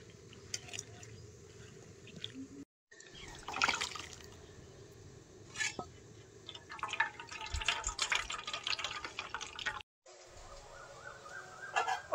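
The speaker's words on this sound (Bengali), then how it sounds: "তেঁতুলগুলো ভালো করে চটকে একটা ছাঁকনি দিয়ে ছেঁকে নেব।" Raw tamarind pulp is mashed by hand and strained through a sieve for a sour fish dish, giving close wet squelches, drips and trickling liquid in uneven bursts with two brief silent cuts.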